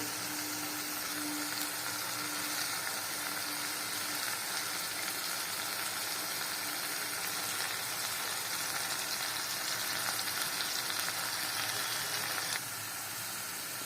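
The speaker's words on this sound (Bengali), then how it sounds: "নাড়িয়ে দিচ্ছি।" Navratan curry being stirred in a frying pan, a steady soft sizzle and frying hiss running throughout at low level with faint scraping, no talk.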